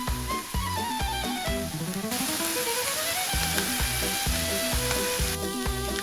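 Onions sizzle and fry in olive oil in a pan, a steady crackling hiss that runs throughout alongside repeated rhythmic tapping and clinking from stirring, with no voices.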